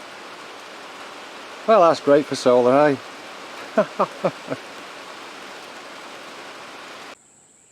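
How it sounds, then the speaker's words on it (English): Steady rain falls outdoors as a constant even hiss, and someone speaks briefly over it before it cuts off. "Started raining."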